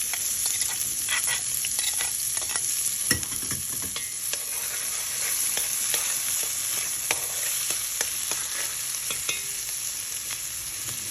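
Onions fry in a spoonful of ghee with a little oil in a pan, crackling and sizzling steadily throughout, with scraping clicks of a spoon stirring them; no voices.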